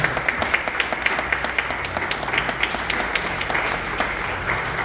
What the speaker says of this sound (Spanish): Vamos a dar unas palmas a la palabra.